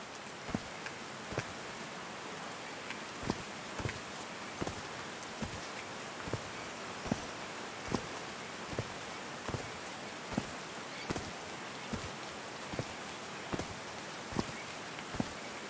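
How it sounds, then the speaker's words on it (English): Rain falling in the video game Call of the Sea, a soft steady patter with distinct drops striking a surface at a loose, regular rhythm, quiet and close, with no talk over it. "These drops of rain are so refreshing."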